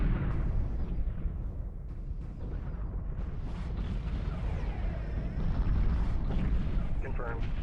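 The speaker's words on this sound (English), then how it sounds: "Torpedoes should deal quite decent damage." Torpedoes striking ships in a space battle from Homeworld 2 with the Fairy Empire mod: a continuous, dense rumble of impacts and explosions, loud and sustained, with voices in the mix.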